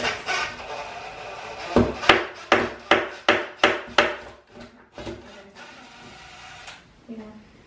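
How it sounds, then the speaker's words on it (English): Hammer blows strike a DIY wooden TV frame, about seven sharp taps in a steady rhythm, close and loud, followed by a brief rubbing scrape; people talk around the hammering. "Just give it a little hammer."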